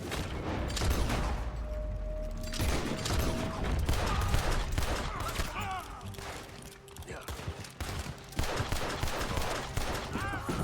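Repeated gunfire bursts from a Red Dead Redemption 2 shootout, loud and dense across the scene, mixed with game voices and mechanical clicks.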